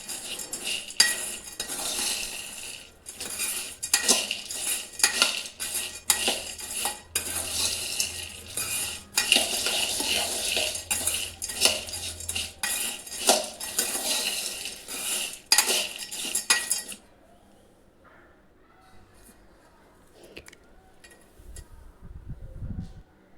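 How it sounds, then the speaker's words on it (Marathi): Peanuts and curry leaves being mixed into khari bundi in a pan: repeated metal spoon scrapes and clinks against the vessel for most of the clip over a light sizzle, then a quiet stretch at the end. "आता यामध्येच आपल्याला शेंगदाणे आणि कढीपत्ता घालून घ्यायचा आहे, तेही यामध्ये मिक्स करून घ्यायचे आहे"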